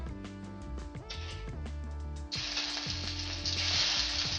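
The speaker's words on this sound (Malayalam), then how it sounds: "നമ്മൾ നേരത്തെ ചതച്ച് വച്ചിരിക്കുന്ന ഉള്ളിയും മുളകും ഇടുക" Crushed onion and chili dropped into hot oil in a pan where mustard seeds are already frying, for a Kerala van payar curry: a crackling sizzle that swells abruptly partway through and stays loud and bright.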